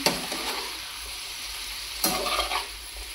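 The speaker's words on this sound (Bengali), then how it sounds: "এই সাইডে হচ্ছে সব মশলা দিয়ে ওর জন্য ভেজিটেবলগুলো হচ্ছে ভাজি করতেছি" Vegetables frying with spices in a pan give off a close, even sizzle, punctuated by two brief bursts of stirring, one at the start and one midway.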